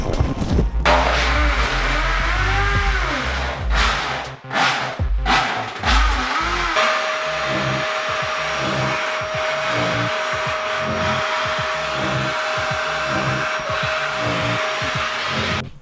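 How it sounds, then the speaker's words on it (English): Drilling holes in a barndominium floor for a toilet installation, a close power drill whirring in repeated bursts, revving and dropping with short pauses between holes. "now that you've drilled all the holes"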